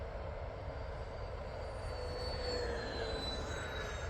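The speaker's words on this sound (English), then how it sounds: "I'm gonna do a low pass over the runway." A Freewing 80mm A10 RC jet sweeps low over a runway at about 75 mph, a continuous loud ducted-fan whine and rushing roar with a shifting pitch as it passes, no talk.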